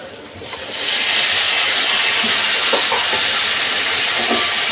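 Small fish drop into hot oil with lightly fried onions, setting off a sudden, loud, steady sizzle that continues to the end, with a few soft clinks from the pan.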